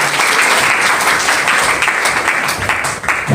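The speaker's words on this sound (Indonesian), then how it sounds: "Kasih tepuk tangan yang meriah bagi Tuhan kita saudara." A church congregation at a prayer and fasting gathering applauds, a loud, full burst of clapping that continues steadily and rises again near the end.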